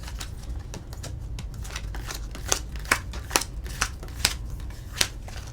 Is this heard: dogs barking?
no